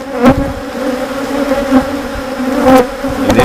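Honey bees swarm loudly around an opened beehive during a frame inspection, a close, dense, continuous buzz with individual bees swelling louder as they pass near.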